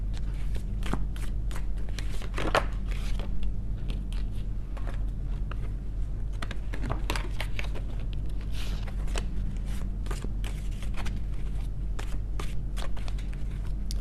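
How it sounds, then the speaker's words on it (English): Cards are shuffled repeatedly, with quick riffling flutters and soft snaps over a low steady hum. "These cards are so hard to shuffle."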